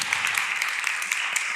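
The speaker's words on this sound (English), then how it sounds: "There are applause being given here." A small audience claps after a Ford Motor Company presentation, a short, light round of applause with scattered individual claps, thin and somewhat distant.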